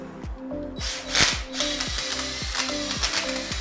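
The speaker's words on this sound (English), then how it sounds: "The drill slipping out a little" A power drill mixing wall mud whirs in repeated short bursts, its motor catching and stuttering as the bit slips, with a brief rough scrape partway through.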